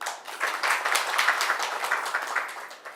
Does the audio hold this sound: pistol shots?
no